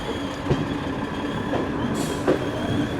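The Koyna Express rumbles steadily through Miraj junction, its wheels clattering over the rails with occasional metallic squeals and knocks, loud and close throughout.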